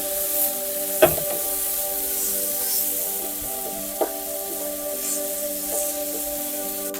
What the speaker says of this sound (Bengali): এই একই পাত্রে কুচনো পেঁয়াজ, কুচনো ক্যাপসিকাম